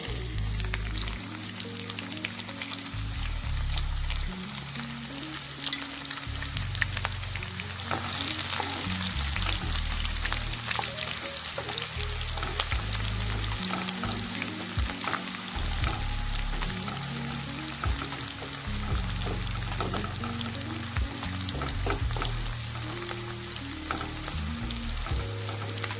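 Chopped onions hit hot oil with fried spices for a Kolkata-style mutton kosha, giving a steady loud sizzle with occasional stirring scrapes throughout.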